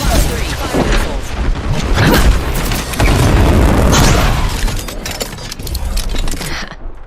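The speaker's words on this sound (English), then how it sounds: "Fire missiles." Missiles fire and explode in a video game, a dense booming roar with layered blasts and rumbling that sustains for several seconds before thinning out, loud and continuous.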